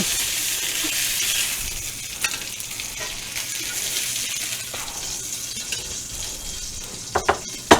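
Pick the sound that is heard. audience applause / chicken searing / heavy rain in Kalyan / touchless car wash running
chicken searing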